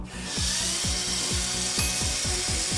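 LEGO L-Motor driving a chain of gears at high speed, a constant whirring grind with rapid repeating clicks and ratcheting ticks, close and steady with no talking.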